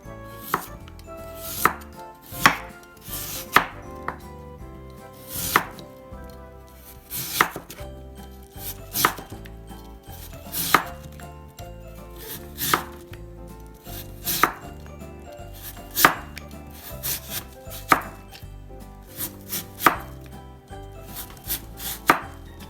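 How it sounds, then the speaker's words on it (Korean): A knife julienning radish strikes a cutting board in a long run of sharp, close chops, coming in quick uneven bursts with short pauses, and no talking. "제가 무로 채 썰어가지고 저걸 하겠습니다"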